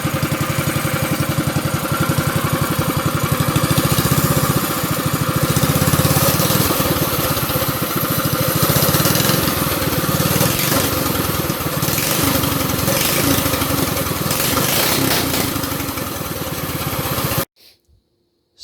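A go-kart engine runs free-spinning on a home build, a loud, continuous buzzing drone with slight pulsing that holds steady for most of the clip, then cuts off abruptly near the end.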